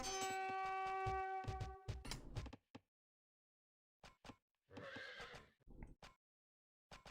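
A horse neighs loudly in the real-time strategy game Rise of Nations: a long whinny up front, a short tail of noise and hooves, then scattered sharp clicks and a second burst of horse sounds after a quiet gap.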